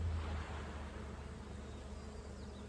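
Honeybees buzz over the brood frames during a beehive inspection, a dense, steady, close-up drone of many wings at moderate volume, with no voices.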